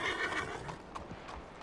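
A horse in the Red Dead Redemption 2 video game gives a short, bright whinny, followed by a few hoof clops, close and fairly loud with no talk over it.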